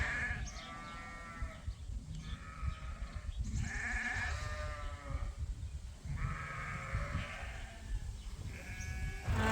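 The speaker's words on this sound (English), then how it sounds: "There, the ewe lambs just came out." Ewe lambs on a sheep farm bleat repeatedly, several overlapping wavering calls in irregular bursts over a rough outdoor background. They sound fairly near and no one speaks.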